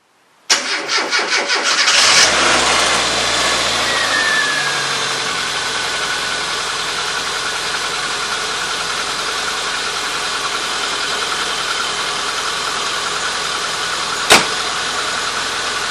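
A classic Mini's engine cranks and catches, then settles into a steady, loud idle that runs on alone with a single sharp click near the end.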